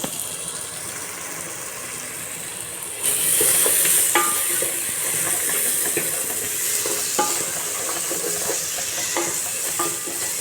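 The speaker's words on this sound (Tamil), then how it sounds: "இப்போ இந்த வாடையெல்லாம் போகிற அளவுக்கு ஒரு 1 நிமிஷம் போல் வதக்கிக்கலாம்." Chicken biryani masala sautés in a pan with a steady loud sizzle, broken by repeated scraping stirs that grow busier after a few seconds. No one speaks.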